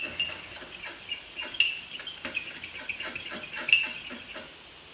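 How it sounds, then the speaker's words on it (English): A spoon clinks against a cup while stirring half a teaspoon of sugar into masala tea, giving light, quick, irregular metallic taps close by over a few seconds. "Just give it a quick mix."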